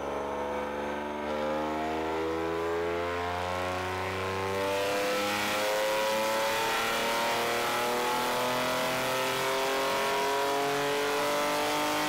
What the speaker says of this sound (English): I made the car too damn loud.